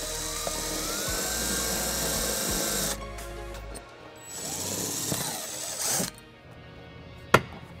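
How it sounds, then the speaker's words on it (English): A cordless drill with a 3/16 bit bores a hole near the hitch receiver of a 2021 Subaru Forester, a whirring motor that runs steadily, stops, starts again, then ends with a sharp click. "we're going to use a 3/16 drill bit to drill our first hole"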